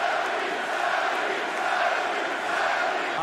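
A wrestling arena crowd roars steadily for Sami Zayn, a dense, continuous wall of cheering that holds at a constant loud level throughout, with no single voice standing out.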